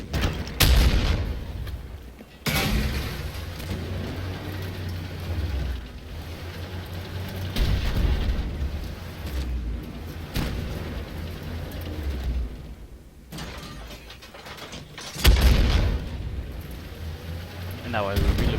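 Artillery fire from an M109 self-propelled howitzer in the Armored Warfare game, with several loud booming blasts around 2.5, 7.5 and 15 seconds over steady rumbling battle noise.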